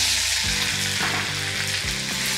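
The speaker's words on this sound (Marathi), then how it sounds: "याच तेलामध्ये आता घालूयात बारीक चिरलेला कांदा।" Finely chopped onion fries in oil in a loud, dense, continuous sizzle close up, with a faint steady pulsing hum beneath.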